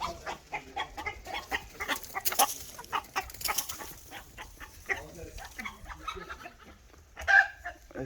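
Chickens clucking and squawking in a noisy, chaotic indoor scene, steady busy calls with a louder burst near the end, under a voice.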